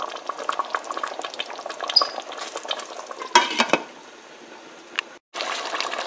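Chicken being stirred into gravy in a cooking pot for Sindhi biryani: a steady, close scraping and sloshing with a light sizzle, one louder scrape midway, then a brief silence before it resumes.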